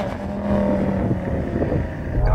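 An Audi RS3 spins and skids its tyres while warming them up before a drag race, a loud, steady engine roar with rough tyre scrub and wind buffeting outdoors, rising in intensity toward the end.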